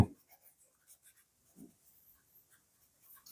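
A math equation is written out by hand, heard as faint, intermittent scratchy strokes and soft taps spread across a few quiet seconds.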